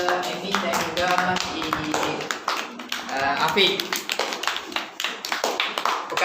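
Classroom applause for students in a Year 4 Islamic education lesson, a burst of hand claps and taps running under a teacher's voice and pupils' chatter.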